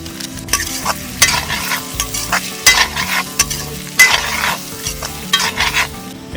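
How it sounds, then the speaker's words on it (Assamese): Turmeric and Kashmiri red chili powder fry in a pan outdoors while a spatula stirs them, with steady sizzling and sharp scraping strokes repeating every second or so. "এইখিনি অলপ ভাজি উঠি অলপ হালধি গুড়ি দিলোঁ আৰু অলপ কাশ্মীৰী ৰেড চিলি"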